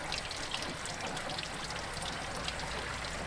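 Water pouring out of a garden hose that has come fully disconnected, a steady close trickling splash running continuously without a break.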